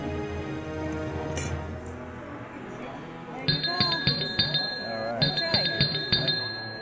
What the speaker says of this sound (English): And when you hear the bell ring,